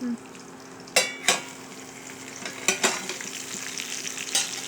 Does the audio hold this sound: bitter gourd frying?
yes